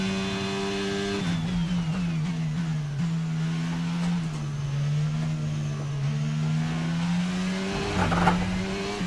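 F1 22 race car on PS5 climbing a hill at the Dutch Grand Prix with overtake mode engaged, engine droning loud and close as it rises and dips through gear changes, with tyre scrub near the end.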